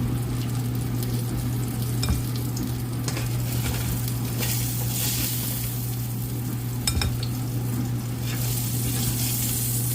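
Mushroom vegan scallops sizzle steadily in a hot frying pan, a continuous close crackle with occasional soft scrapes and clinks, no voices.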